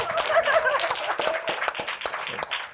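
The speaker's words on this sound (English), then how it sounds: "please a huge round of applause for Bill and Leslie" Audience applause for two guests at a higher-education conference session, a dense, steady wash of many hands clapping close and loud for a few seconds without talk.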